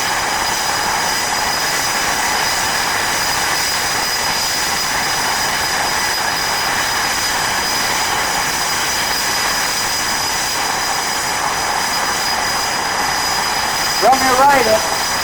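A V-22 Osprey tiltrotor flying at the Kaneohe Bay air show in Hawaii: a loud, steady droning roar with a whining tone holds throughout, like an aircraft some distance away, and an announcer's voice speaks over it near the end.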